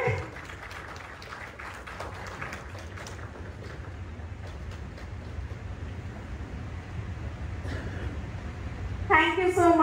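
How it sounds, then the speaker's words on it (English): Scattered audience applause at a stage event, a faint patter over a low rumbling background, with a person's voice speaking near the end. "तालियां रुकनी नहीं चाहिए."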